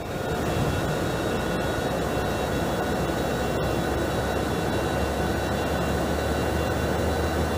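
Citation X jet engines roar at steady takeoff power in a flight simulator game, a constant loud broadband rush with a low rumble, unbroken and without speech.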